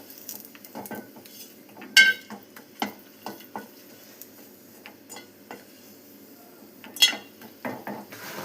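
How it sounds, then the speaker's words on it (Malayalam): Asafoetida fries in oil in a pan with curry leaves while a spoon stirs, giving faint sizzling under scattered metallic scrapes and clinks against the pan. "കായം നന്നായി ഫ്രൈ ആവണം, അപ്പോഴേ പൊടിയുള്ളൂ"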